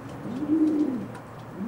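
Racing pigeons in a loft coo softly in low, rolling calls, one drawn-out coo followed by the start of another, close by with no voices.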